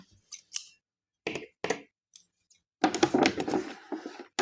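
A few quick, crisp scissor snips, then a longer stretch of cutting and rustling paper close by.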